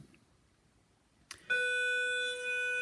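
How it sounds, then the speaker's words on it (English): A brief clatter, then a loud electric bell rings steadily and continuously, a sustained metallic tone filling the rest of the moment. "Oh, there's the bell."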